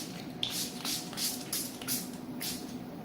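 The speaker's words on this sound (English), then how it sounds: "And then you just spray them again." Hair spray hisses in about six short, even bursts over sponge rollers set in hair, close and fairly soft against a quiet room.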